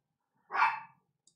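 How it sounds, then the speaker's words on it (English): An angry dog gives one short, sharp bark, close and loud, against otherwise silent surroundings. "Let's see why the dog is so angry."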